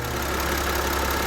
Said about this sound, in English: as you can see, the engine running fine